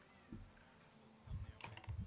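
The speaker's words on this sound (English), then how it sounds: "I heard your cat in the background." A roommate's cat meows faintly in the background, giving a few short, soft calls over a quiet room.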